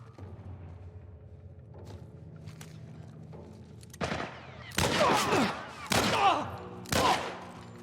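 Gunfire from The Last of Us remake: after a quiet stretch with faint ambience, four loud, sharp gunshot bursts ring out around one per second, each trailing a brief echo.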